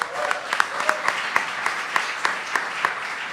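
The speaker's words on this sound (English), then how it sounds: "Give them a round of applause." An audience at a panel discussion on teachers' revolts claps for the speakers, steady applause with distinct individual claps spread through the room, moderately loud and continuous.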